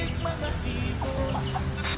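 Chickens clucking softly nearby, with a hen and chicks hatched the day before, scattered short calls and faint peeps over a steady background hum.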